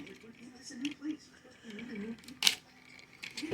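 A Transformers Superion toy's plastic legs ratcheting sideways, giving faint clicks and one sharp, close click midway, under someone talking.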